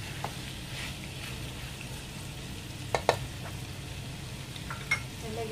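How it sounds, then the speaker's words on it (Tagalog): Steady sizzle of papaitan, a Filipino offal soup, frying and being stirred in a cooking pan, with a few sharp utensil scrapes and clinks against the pan over the constant hiss. "haluin lang po natin"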